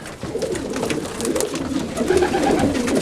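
Young roller pigeons coo in a loft, a close, continuous chorus of soft, throaty calls overlapping throughout with no talking.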